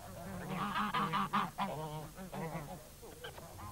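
Several geese honking loudly and repeatedly close by, harsh overlapping calls in quick bursts.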